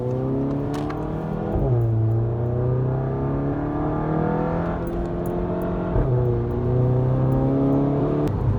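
A VW Golf GTI MK7 engine with a DSG gearbox shifted by hand revs loud and close, pitch climbing steadily, dropping sharply at each shift, then rising again in repeated pulls.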